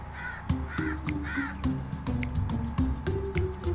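Crows cawing around a rooftop, a run of loud, harsh repeated caws close by, several birds calling in quick succession with hot outdoor ambience behind.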